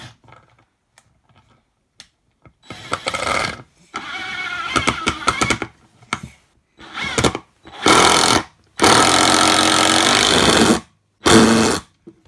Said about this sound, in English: with this screw and a drill with a Phillips head screw attachment, we can screw this in to affix this